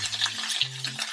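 Mustard and cumin seeds sizzle and crackle in hot oil in a pan during preparation of South Indian sambar, with a brief dense frying hiss and stirring scrapes close to the microphone, plus a low hum underneath.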